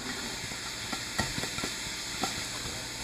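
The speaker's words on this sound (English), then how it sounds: "with the bacon removed from the pan, but the pan back on the heat, we're going to go ahead and add our aromatics, our onions and parsnips" Chopped onions and parsnips hit a hot pan still glossy with bacon fat and fry with a steady close sizzle and hiss, broken by a few soft stirring knocks, with no talking.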